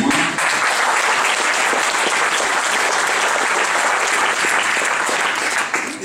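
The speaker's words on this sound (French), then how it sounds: "on peut applaudir Hervé néanmoins" A crowd applauds steadily and fairly loudly throughout at a political party's New Year's greetings evening, a dense, even wash of many hands with no voices on top.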